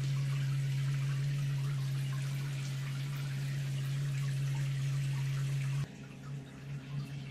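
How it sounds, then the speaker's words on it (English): A Costway portable instant water heater runs full flow through its shower head, a loud, steady hiss of spraying water that drops abruptly near the end to a quieter, uneven splash. "That's as much water as it can dump at one time through this shower head"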